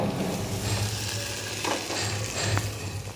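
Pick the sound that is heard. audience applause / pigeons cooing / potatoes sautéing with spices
potatoes sautéing with spices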